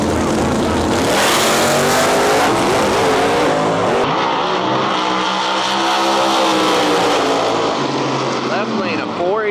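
Drag race cars making a pass at a track, engines roaring loud and close, surging and sweeping in pitch as they accelerate and run down the strip, then fading slightly at the end.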